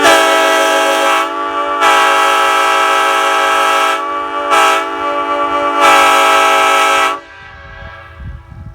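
Old cast Nathan P5 train horn at a horn fest: a loud, sustained multi-chime blast cut into several long honks with short gaps, then stopping abruptly, leaving faint background noise.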